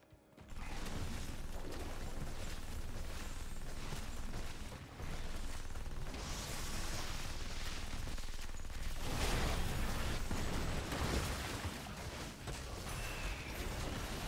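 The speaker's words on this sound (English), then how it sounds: "If you get all 6 towers to the same color, they start shelling." Towers shelling during a competitive video game match: a dense, continuous barrage of mechanical clanking and explosive bursts, loud and sustained throughout with no pauses.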